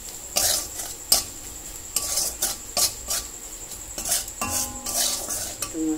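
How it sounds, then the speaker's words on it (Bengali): Spices with turmeric and salt are stirred in a pan, a utensil scraping and clattering against the metal in repeated strokes over a light sizzle. "হলুদ, লবণ দিয়ে এটা ভালো করে আবার মিশিয়ে নেবো।"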